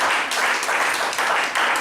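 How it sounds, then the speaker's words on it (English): Audience clapping at a motivational talk on success, a steady wash of applause filling the short stretch with slight swells in loudness. "Let's clap for her."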